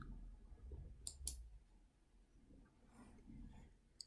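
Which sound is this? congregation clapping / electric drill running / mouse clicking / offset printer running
mouse clicking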